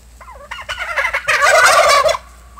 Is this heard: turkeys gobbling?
yes